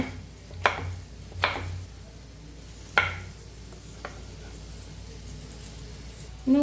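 Knife chopping tomatoes on a board for a chickpea dish: a few sharp, separate cuts spaced a second or so apart, fairly quiet in a still room with no talking.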